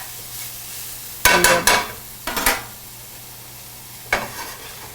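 Garlic sizzling in a hot oiled pan as it is stirred, with three bursts of crackling frying noise, close and loud, set apart by quieter pauses.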